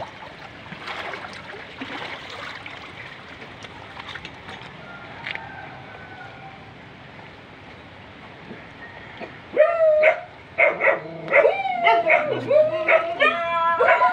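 A dog yips, whimpers and barks in a burst of high, excited cries near the end, after a stretch of quieter background noise, in a deeply flooded area during Typhoon Kristine in Bicol.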